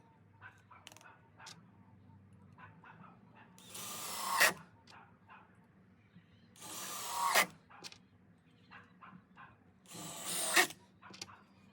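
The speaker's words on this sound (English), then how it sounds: "now we just glue and screw it down" A power drill drives screws to fasten a wooden outdoor furniture seat back down, three loud whirring bursts a few seconds apart, close by, with quieter handling clicks and knocks between them.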